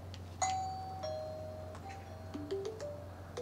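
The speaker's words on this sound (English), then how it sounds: "now this time we're going to test the doorbell push to notification speed" A Wyze Video Doorbell V2 chime plays a short sequence of electronic tones, faint and a little distant, with soft clicks between the notes.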